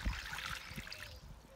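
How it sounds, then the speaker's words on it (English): Water trickles and splashes steadily into a small outdoor bird bath tub, a continuous close pouring stream with a bright gurgling texture and no talk. "Put some more water in this little tub"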